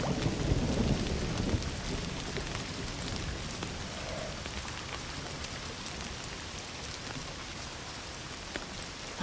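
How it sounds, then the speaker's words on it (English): Steady rain pours down with a low thunder rumble rolling in during the first couple of seconds, then continuous downpour hiss fills the rest, with no voices. "Don't you love rain?"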